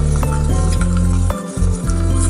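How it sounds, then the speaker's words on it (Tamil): Thick pearl millet (kambu) porridge stirred in a metal vessel, with a steady run of scraping clinks and knocks against the pot, close and fairly loud with a brief pause near the middle. "நல்லா கரைஞ்சி வச்சு கலக்கிட்டோம்னாக்கா"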